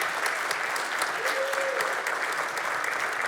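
Audience applause at a live morning show, a steady dense wash of clapping from a nearby crowd with a brief cheer or whoop rising partway through, no talk over it.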